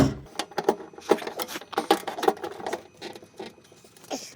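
A ratchet undoes three 10 mm bolts on a Hyundai Accent RB tailgate trim, giving quick bursts of close, rapid clicking in an irregular rhythm with short pauses between turns.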